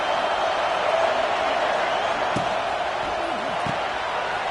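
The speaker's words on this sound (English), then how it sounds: "Listen to this crowd just shaking the girders of this place trying to help their defense." A college football stadium crowd roars in a dense, steady wash of noise while the defense is on the field, with a couple of sharp thuds breaking through.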